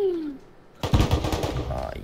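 Automatic turret in the survival game Rust opening fire with a rapid burst of gunshots, loud and close, preceded by a quieter tone and near silence.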